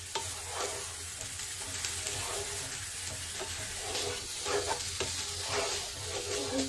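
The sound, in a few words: frying meat with sugar in a pan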